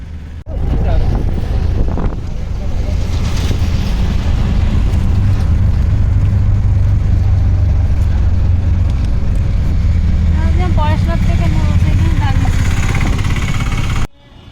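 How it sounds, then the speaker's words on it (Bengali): Riding inside an auto rickshaw on the way to a station: a steady, loud engine rumble with continuous wind buffeting the microphone for the whole ride, and some voices talking beneath it. "তো আমরা অটোয় উঠে গেছি। অটো করে এখন স্টেশন যাব"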